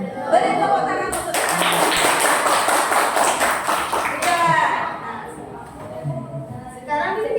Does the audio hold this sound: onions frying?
no